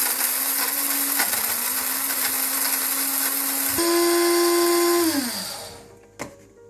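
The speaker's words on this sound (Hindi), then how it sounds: "इसके बाद आप ग्राइंड कर लें।" An electric grinder whirs loudly, grinding spices into powder for nihari, a steady whine that rises in pitch partway through, then spins down and stops with a final clack.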